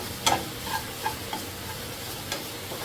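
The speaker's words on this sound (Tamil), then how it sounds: "சும்மா ஒரு 1-2 மினிட்ஸ் வதக்குனா போதும்." Carrots sauté in a pan under a steady sizzle while a spoon stirs them, with several light scraping clicks spaced through the clip.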